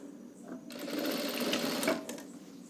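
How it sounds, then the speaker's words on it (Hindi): A sewing machine stitching a shirt runs in one short, fast burst of rapid mechanical clatter of about a second and a half, with quieter handling sounds before and after. "अब ऐसे ही पूरी सिलाई हम मार लेंगे।"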